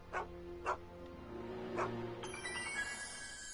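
A dog barks in the Back to the Future video game, giving a few short, sharp yips early on, moderately loud, followed by a quieter game ambience with tonal sounds.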